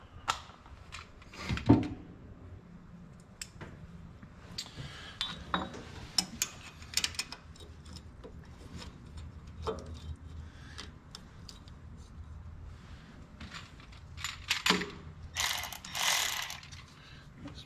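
A ratchet wrench clicks in irregular bursts while working on a 12 valve Cummins engine, close by, with metallic clinks and tool handling between the turns and no talking.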